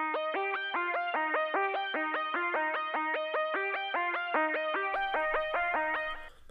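A synth-like melody repeats in short notes with echoing repeats trailing behind each one, steady and bright, ending abruptly.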